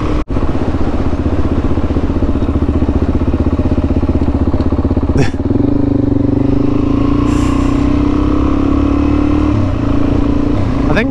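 A motorcycle riding on an outback road in the Simpson Desert, a loud continuous close engine drone with a steady pitch that rises slightly, plus occasional clatter and wind.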